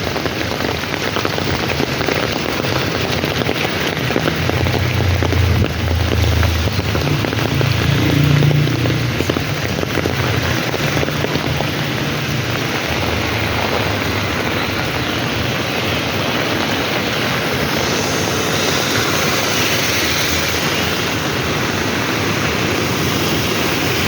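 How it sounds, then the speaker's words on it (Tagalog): Heavy monsoon rain pours onto a road in Singapore, a loud steady hiss of drops pattering on wet pavement, with low rumbles of passing cars swelling under it midway. "Basta maulan."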